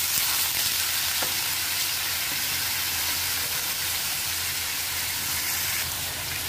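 Potatoes tipped into hot oil with well-roasted spices in a pan for samosa filling give a steady, loud, close sizzle that stays dense and unbroken throughout, with a faint clink near the start.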